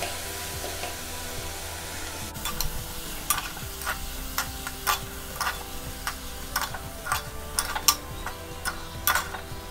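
Dalia (broken wheat) and yellow moong dal sautéed and stirred in a pan, giving a steady low sizzle with a run of sharp spoon-on-pan scrapes and taps repeating every half second or so.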